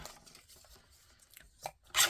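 Paper strips for a handmade card are cut with Stampin' Up! In The Grove craft supplies, giving a couple of short, crisp snips near the end after quiet handling.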